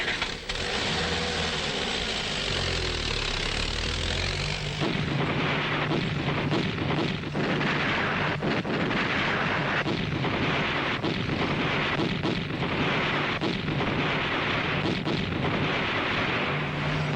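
In a war film, enemy anti-tank weapons fire at a position by a cliff mouth, with heavy booming blasts and explosions over a rumbling engine drone that builds into dense, repeated impacts throughout.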